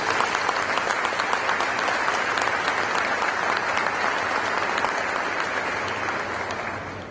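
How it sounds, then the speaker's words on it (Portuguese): Sustained loud applause from an audience of students at a rural law congress, dense and continuous throughout, tapering slightly at the end. "Uma salva de palmas para vocês"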